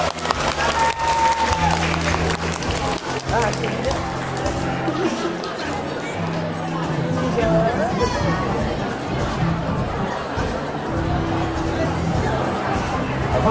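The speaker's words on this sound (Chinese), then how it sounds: "谢谢他们，掌声鼓励。" Audience applause at a Lunar New Year community performance, a sustained mass of clapping from a crowd mixed with chatter and murmuring voices throughout.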